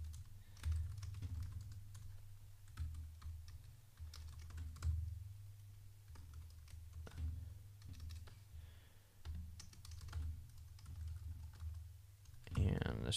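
Typing on a computer keyboard produces a steady run of soft, close key clicks with a few brief pauses, over low background hum.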